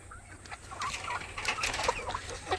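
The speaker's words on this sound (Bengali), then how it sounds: "এই যে সেই আমার ছোট্ট মুরগি খামার" Several chickens clucking close by in a small poultry farm coop of about 95 birds, overlapping short calls rising and falling over a low background hum.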